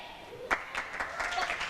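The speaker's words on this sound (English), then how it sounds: "the crowd are really getting into this match." A table tennis crowd at a T2 APAC 2017 match between Matilda Ekholm and Hina Hayata applauds, fairly quiet scattered claps at a distance, including one sharper hit near the start.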